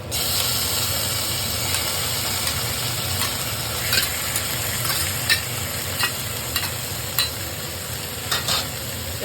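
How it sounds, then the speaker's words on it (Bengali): Pieces of taro go into a pan of fried spices and are stirred, giving a continuous loud sizzle with repeated scraping and clacking from the spoon against the pan. "এর মধ্যে আমি এখন কচুটা ছেড়ে দেবো।"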